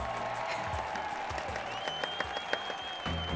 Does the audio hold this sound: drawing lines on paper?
no